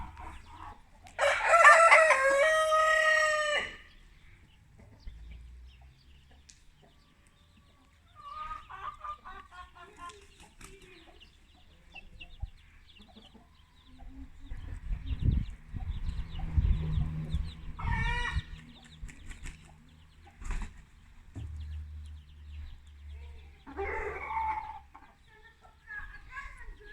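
Brahma chickens in a farmyard: one loud rooster crow rings out near the start, followed by scattered clucks and short calls with low shuffling sounds between them.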